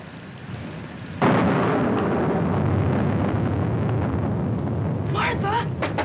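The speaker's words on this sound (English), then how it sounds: "I'm afraid of the thunder and lightning." A thunderstorm in an old 1946 film scene: rain and rumble build, then a sudden loud thunder crash swells into sustained roaring rain, with brief dialogue voices near the end.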